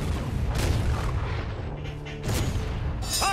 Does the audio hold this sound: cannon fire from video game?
yes